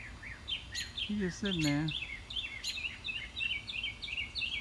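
A small bird chasing an owl outdoors gives a rapid series of high, thin chirping calls, repeated in quick bursts at close range, with someone speaking quietly partway through.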